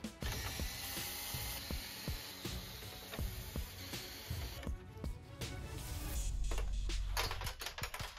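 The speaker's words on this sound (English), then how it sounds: "Now we will remove 6 screws from the handle and 6 screws that attach the panel to the wooden box." Screws being backed out of the handle of a JBL PartyBox 710 speaker with a screwdriver: close, rapid ratcheting clicks repeat in bursts over a steady mechanical background.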